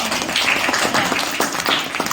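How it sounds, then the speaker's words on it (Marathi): A group claps for a participant during a memory game, a steady burst of applause that is close and loud and runs for about two seconds. "टाळ्या त्याच्यासाठी"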